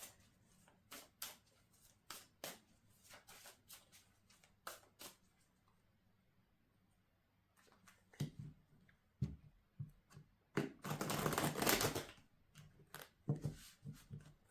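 A deck of tarot cards is shuffled by hand in a quiet room: scattered soft riffles and taps, a pause, then a longer, louder burst of shuffling with a few final flicks.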